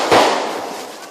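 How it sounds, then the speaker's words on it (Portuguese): A single sharp gunshot crack during an exchange of fire between environmental police and loggers in Pernambuco, loud and close, with a short decaying tail. "houve até troca de tiros"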